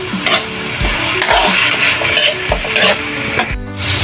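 Chicken and tofu with black pepper sautéing in a pan, a steady loud sizzle with repeated sharp clanks of a utensil stirring against the pan.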